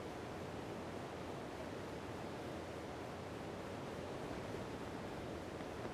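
A very big waterfall in Breath of the Wild, Master Mode, roars as a steady, loud, broadband rush of water that holds constant throughout, with no voices over it.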